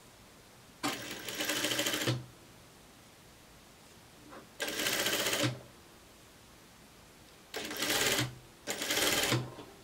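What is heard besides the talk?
sewing machine stitching a neckline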